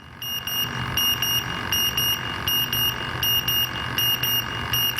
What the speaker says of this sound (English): There's our A2 alarm, which is our double pulse alarm.